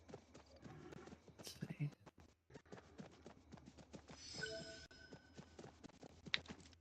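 A horse in the LEGO Fortnite Odyssey video game clip-clops along in a quick, steady run of hoof taps, with game sounds around it and someone talking over it.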